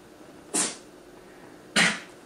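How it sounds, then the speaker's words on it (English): A pet sneezes twice in a quiet indoor room, two sharp, airy bursts about a second apart, close to the microphone and heard alone. "that's Gidget sneezing"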